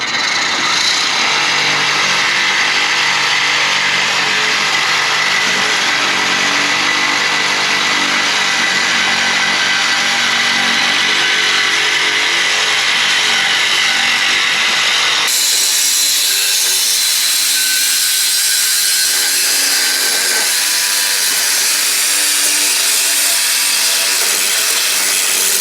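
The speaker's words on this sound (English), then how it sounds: "Sawzall time. I don't always sawzall, but when I do, it's loud." Sawzall reciprocating saw cutting through a Ford Mustang GT 4.6 exhaust pipe, a loud, steady harsh buzz that runs continuously and changes character partway through as the cut progresses, with no talk.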